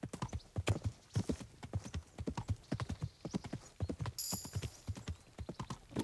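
Horse hooves clip-clop in a steady walking rhythm through Kingdom Come: Deliverance, close and fairly loud, with a brief whinny-like burst partway through and no speech.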